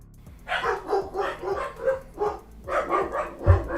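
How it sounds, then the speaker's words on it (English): Several dogs bark repeatedly in uneven bursts, close and fairly loud, with one sharper, louder bark near the end and no talk over them. "We'll be back after these barking dogs."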